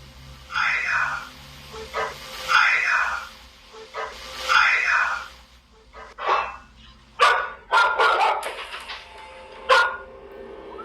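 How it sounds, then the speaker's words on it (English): Dogs barking in security camera footage, a series of near, loud barks in uneven bursts over a hissing background, with some yips, and no talking. "is it just some dogs randomly freaking out"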